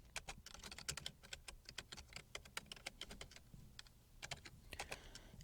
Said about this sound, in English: typing city names, press tab, and typing a number of employees